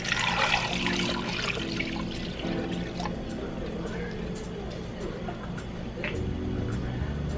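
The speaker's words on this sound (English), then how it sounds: "I'll just pour the water here." Water pours and trickles into a small container for keto egg-fast cooking, with a steady splashing, some clinking and handling noises mixed in, close by.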